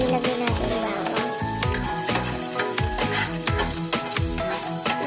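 Garlic sautés in hot oil, a loud, close sizzle broken by repeated stirring scrapes and pan knocks in a steady rhythm, with no voices.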